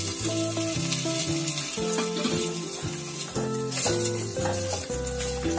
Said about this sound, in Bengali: এরপরে এর মধ্যে আমরা অ্যাড করে দেব